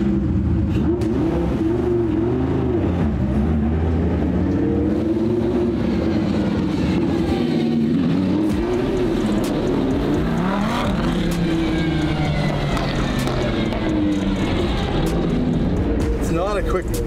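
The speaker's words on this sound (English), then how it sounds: "You want another burnout?" Lamborghini Huracan Evo2 engine roaring through a burnout, a loud sustained rev with shifting pitch and tyre noise throughout, with people talking over it.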